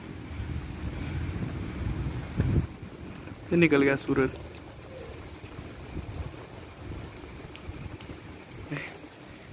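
Strong monsoon wind blows in a steady roaring rush against the microphone during a rain shower, with someone speaking briefly in the middle.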